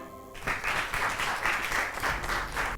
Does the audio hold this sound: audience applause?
yes